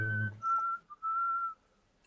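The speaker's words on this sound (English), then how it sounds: "Stop whistling" A short whistled melody of the Russian anthem, a few clear sustained notes, close by, following a brief voice at the start.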